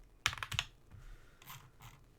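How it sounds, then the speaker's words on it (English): Typing on a computer keyboard, a few quick, faint clicking key presses in short bursts, close by in a quiet room with no talking. "If I can type correctly."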